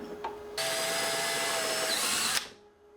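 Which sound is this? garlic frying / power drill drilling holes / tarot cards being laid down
power drill drilling holes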